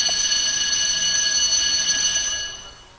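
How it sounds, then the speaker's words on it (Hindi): A fire alarm aboard a ship rings continuously as a steady, piercing electronic tone, loud and close, dropping off near the end. "फायर अलार्म सबसे पहले बजाते हैं।"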